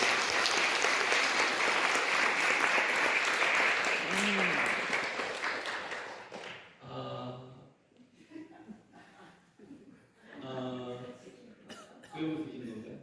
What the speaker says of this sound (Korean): 한번 힘찬 박수로 격려해 주십시오.